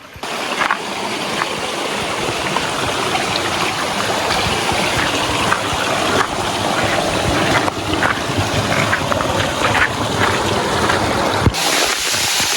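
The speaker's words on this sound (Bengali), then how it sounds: "এইটাই মূলত আমাদের সেই কাঙ্ক্ষিত ঝর্ণা।" Silbunia waterfall in the Marayang Tong hills, heard as a loud, continuous, broadband rush of falling water nearby, steady throughout with no clear voices above it.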